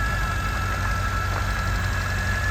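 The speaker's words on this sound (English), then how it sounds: "just listen to the little whine on turnover" A supercharged 998cc Mini engine ticks over at idle, a steady low rumble with a thin, constant high whine riding above it, close and unbroken throughout.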